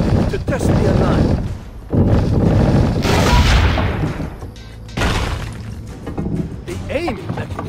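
Cannon fire in Assassin's Creed Brotherhood: several loud booming blasts with rumbling decay, mixed with game sound and background music.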